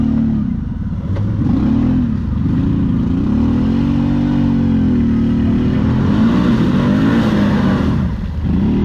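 A quad bike engine revs steadily in deep mud, close and loud, holding a droning, fluctuating roar with brief dips near the end.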